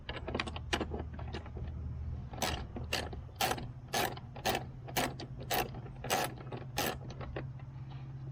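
A ratchet wrench turns a 10mm socket on broken lawn care equipment, giving quick bursts of close, crisp clicking and then a steady series of evenly spaced ratcheting strokes over a low background hum.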